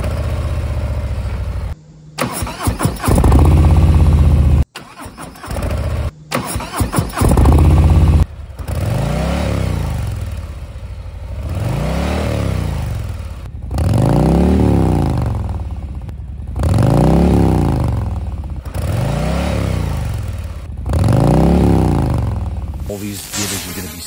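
A motorcycle engine with Tap Performance aftermarket exhaust pipes rumbles and revs repeatedly in deep, throaty swells, loud and close, after a few choppy bursts at the start.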